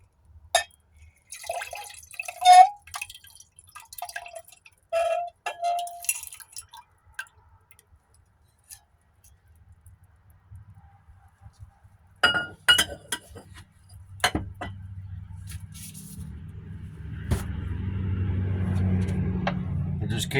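Water rinses over phone electronics being stripped for precious metals: sparse clinks and drips of glass and liquid, then a steadier running-water wash building toward the end, close and fairly quiet.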